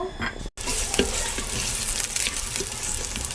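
Whole cloves, black cardamom, cinnamon pieces and a bay leaf fry in hot oil with a steady, close sizzle. A brief dropout comes near the start, and scattered stirring clicks follow.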